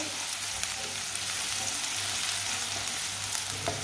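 Finely chopped onions frying in oil until lightly browned, an even, hissing sizzle with faint occasional stirring, steady and fairly quiet at close range, no one speaking.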